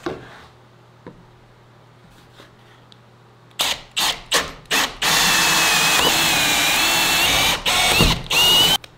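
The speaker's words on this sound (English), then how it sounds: "So we just got to drill out those couple holes and we can go in and install these guys." A power drill bores holes through a board for hose bib installation, several short bursts of whirring followed by a long sustained loud drilling run and a final burst.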